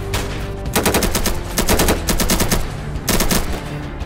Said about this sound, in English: This is a very heated gunfight here.